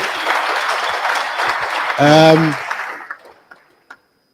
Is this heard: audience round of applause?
yes